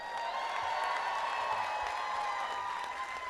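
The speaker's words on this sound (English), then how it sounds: "give a thunderous applause to the BCC faculty once again" Applause at a college commencement ceremony, a steady distant patter of many hands clapping in a large hall, sustained and even throughout.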